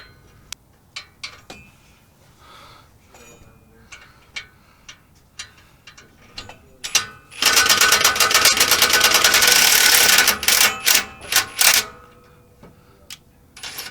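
A ratchet with two extensions works a seized frame bolt on a Colorado: scattered sharp metallic clicks, then a dense, loud burst of rapid ratcheting for a few seconds, followed by a few more isolated clicks.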